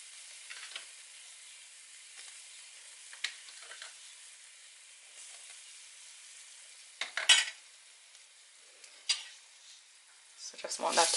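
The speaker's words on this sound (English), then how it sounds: "I'm going to be adding the curry to the oil just to get the curry burning a little bit" About two teaspoons of curry powder frying in hot oil for a curry dish, giving a faint, quiet sizzle with sporadic louder stirring scrapes and clinks of a pan and utensil. No one talks.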